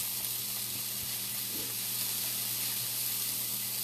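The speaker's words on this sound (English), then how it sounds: "Give that a stir into that oil that's going to wake it up." Herbs stirred into hot oil in a pan give a steady close sizzling hiss with faint stirring movement underneath, and no one speaks.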